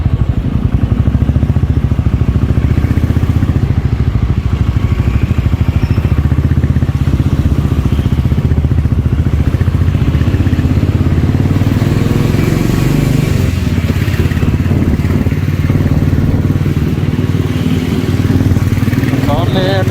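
A motorcycle rides through a traffic jam just before the Atal Tunnel near Rohtang in Himachal during snowfall, its engine a loud, continuous close rumble with road clatter throughout.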